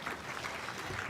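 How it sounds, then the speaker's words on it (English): An audience at a trade fair panel session claps for the panelists, producing a soft, steady spread of applause that sounds somewhat distant and fills the brief moment without speech. "Let's clap for them."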